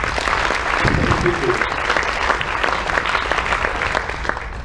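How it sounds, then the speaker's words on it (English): Audience applause aboard a cruise ship during an activity-day presentation, a sustained bed of clapping with some crowd murmur and a voice briefly audible underneath. "So big round of applause."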